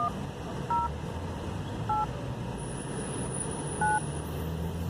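Telephone keypad tones beep in short, evenly spaced single presses while a callback number is entered into a voicemail system, each tone brief and clear above a low steady background hum.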